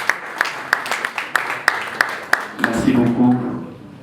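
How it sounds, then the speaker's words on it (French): Applause at a Congolese artist award ceremony in London: about nine sharp, evenly spaced claps ring out one after another, then a murmur of crowd voices and a brief spoken voice rise as the clapping stops. "Et je vous demande d'applaudir très fort pour les bonnes."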